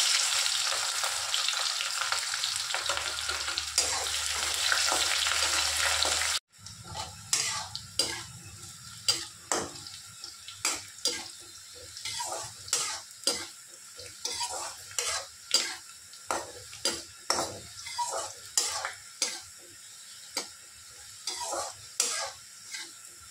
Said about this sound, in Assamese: যিটো ফ্ৰাই কৰিলোঁ সেইটোতে মই দি দিম এতিয়া পাঁচফোৰণ, এইটো তেলতে। আমি এটা পিঁয়াজ কাটি থৈছিলোঁ, এইটো মই দি দিছোঁ।